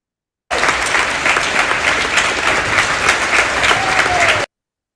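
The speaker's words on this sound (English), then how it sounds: "let us express your heartful and heartfelt gratitude with a big round of virtual applause" A loud, dense round of recorded crowd applause for an online faculty development program starts abruptly, holds steady for about four seconds, then cuts off.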